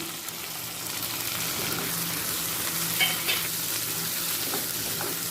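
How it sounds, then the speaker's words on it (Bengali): Onion, tomato and chopped green chilli frying together on high flame, a continuous moderate sizzle with soft stirring, a brief watery spurt midway, and no talking. "টমেটো কাঁচা লঙ্কাটা পেঁয়াজের সাথে তিরিশ সেকেন্ড ভেজে নিচ্ছি অবশ্যই হাই ফ্লেমে"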